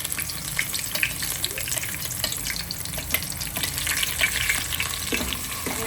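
Capsicum and onion hit hot oil in a pan while making Maggi, giving a loud, dense sizzle with scattered pops and crackles and a few clinks of stirring, with no one speaking.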